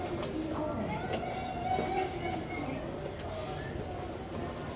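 A JR Osaka Loop Line train on a holiday through-service to Tennoji via the Yumesaki Line runs with a steady, moderately loud rumble of wheels and motor, heard from inside the car with faint voices beneath.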